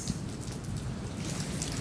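Steady rain pours down outdoors during a storm, a dense continuous hiss of falling water with some low rumble underneath, heard alone at an even level throughout.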